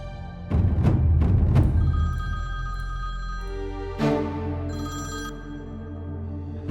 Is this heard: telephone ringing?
yes